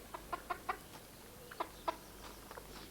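Chickens cluck softly in short, scattered calls, a few quick clucks at a time, fairly faint against a quiet background.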